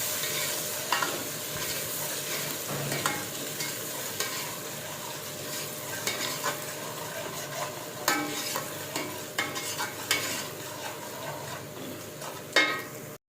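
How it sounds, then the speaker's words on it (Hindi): Ginger and garlic fry in a pan while a spoon stirs them, giving a continuous sizzle with repeated scraping clinks throughout, close and clear, with no talk. "ये तो भूनते हुए इसको 2 मिनट हो गए"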